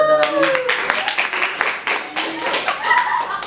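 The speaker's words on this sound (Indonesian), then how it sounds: "beri tepuk tangan dulu untuk saudara ini" A small classroom group claps for a student after a practice teaching session, a loose burst of hand claps heard close, with speech running over the clapping.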